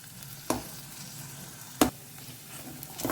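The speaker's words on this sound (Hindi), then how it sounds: "इसे ना 1 मिनट के लिए इसे हमें भून लेना है अच्छे से। लगातार इसे ना आप चलाते रहिए।" Cassia tora (takla) leaves stir-fried in a pan with toor dal over a low, steady sizzle, broken by two sharp scraping clacks of the spatula against the pan and a third fainter one at the end.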